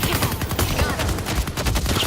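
Rapid gunfire in the video game Deadlock, a dense fusillade of close, loud shots rattling continuously over rumbling game audio.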